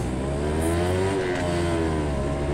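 A Yamaha Sigma 100cc motorcycle engine revs steadily and loudly at close range, its smooth, sustained drone rising slightly in pitch, with no voices over it.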